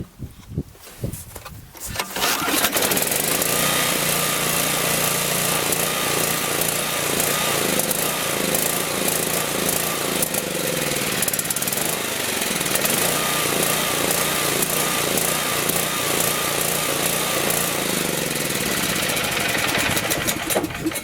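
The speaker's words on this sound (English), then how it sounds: "I'm going to pull start it this time." A gas leaf blower engine catches after a pull start on a cold day, with the air filter removed, then runs loud and steady for about twenty seconds, its rough idle hunting and wavering throughout.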